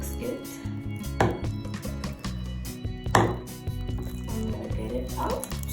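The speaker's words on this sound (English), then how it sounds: "So now I'm gonna get it out with the spatula and try to mix it." A spatula works through purple glitter slime in a bowl, giving wet squelching and sticky scraping sounds with a couple of sharper knocks against the bowl, close up, while a person talks over it.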